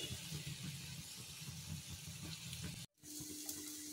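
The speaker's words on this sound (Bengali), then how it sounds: "বড়াগুলো ভেজে নিচ্ছি এরকম করে।" Jackfruit seed fritters fry in hot oil in a pan with a continuous bubbling hiss that cuts out briefly near the end, then resumes more quietly.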